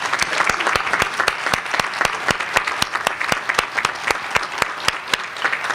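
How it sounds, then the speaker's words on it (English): A commencement audience applauds the staff and volunteers, with dense, loud, steady clapping and sharp individual claps standing out rhythmically throughout. "How about a round of applause for all of those folks?"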